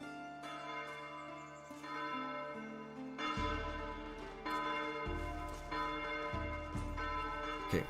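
Church bells ringing from a bell tower in the medieval city-builder game Foundation, a series of resonant clangs with long ringing decay, overlapping in a slow irregular rhythm, moderately loud and alone.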